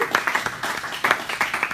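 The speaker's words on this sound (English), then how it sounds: "So give him a round of applause and let's start." Brief burst of audience clapping at a tech meetup on iOS testing, moderately loud and irregular, fading as the host hands over.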